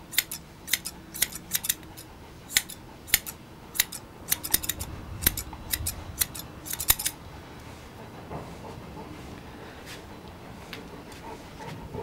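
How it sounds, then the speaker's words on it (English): Crisp snips of scissors cutting a dog's hair come in quick irregular clusters, close and clear, then stop, leaving a faint quiet background. "I put the scissors flat on top of the head and cut the parts that stick out away."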